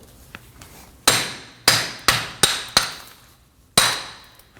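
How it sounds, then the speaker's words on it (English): A hammer strikes a rear wheel hub on a 2003–2006 Subaru Baja, six sharp metallic blows at uneven intervals, each ringing briefly before decaying. "I'm going to use a hammer to strike the hub"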